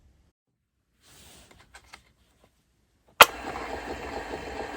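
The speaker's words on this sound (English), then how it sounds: "Rewind works, though it's noisy." A Parrot BT-1 book-style cassette recorder, powered by C cells and a 9-volt battery, rewinds its rim-driven tape with a loud, steady whirring rattle that kicks in abruptly after a few quiet clicks and handling taps.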